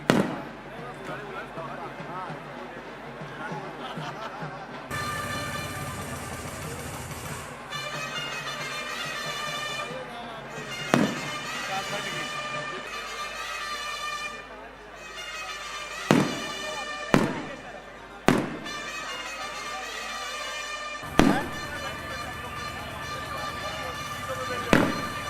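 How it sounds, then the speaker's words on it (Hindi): Fireworks at a sports tournament closing ceremony on a ground, a long crackling rush of bursts with several sharp loud bangs spread through, heard at moderate distance. "अभी आतिशबाजी के बाद"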